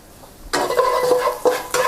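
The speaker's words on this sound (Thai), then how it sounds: "ผัดให้มีกลิ่นหอมครับ พอกระเทียมมีกลิ่นหอมแล้ว" After a quiet moment, chopped garlic hits hot oil in a pan over medium heat and starts sizzling, with a spatula scraping and stirring in quick strokes, close up.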